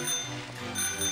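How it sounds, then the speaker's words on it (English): A bicycle bell rings twice in Pokémon Sword and Shield, two bright, clean dings about half a second apart at moderate volume, with nothing else heard. "you can ring the bell on the bike"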